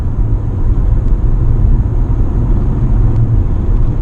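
A plug-in hybrid car under full-throttle acceleration on electric power, giving a steady, loud low-frequency drone and road rumble with a faint high whine running throughout, with no talk.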